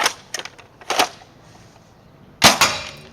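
A toy foam blaster fires Elite foam darts through a chronograph, with no scar barrel fitted. Three sharp, close, mechanical clicking shots come in irregular spacing with quiet gaps between them, and no talking.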